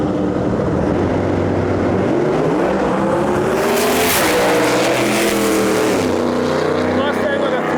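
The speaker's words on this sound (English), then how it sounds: "Next pair up, we got Challenger far side of the track and an S550 twin turbo Mustang in our lane." A Dodge Challenger and a twin-turbo S550 Mustang launch down a drag strip, a loud roaring engine pass building and sweeping past, with a loud burst midway and crowd or announcer noise underneath.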